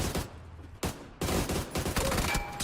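Rapid burst of gunfire in the battle royale game PUBG during a competitive esports match, loud and close, with sharp repeated shots across the clip and brief gaps between volleys.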